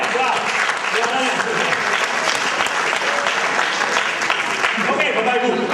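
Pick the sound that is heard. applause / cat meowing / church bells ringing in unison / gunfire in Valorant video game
applause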